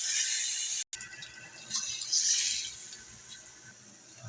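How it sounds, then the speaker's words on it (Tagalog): Water pours steadily into a cooking pot of pork stew with mung beans, a hissing splash that swells midway and then eases, with a brief gap near the start. "Lagyan tayo ng tubig."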